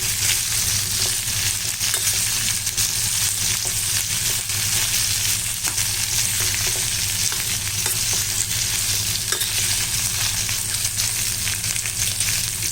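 Brinjal pieces frying in oil for a podi masala fry, giving a loud, continuous close-up sizzle with faint spatula scrapes throughout and no voices.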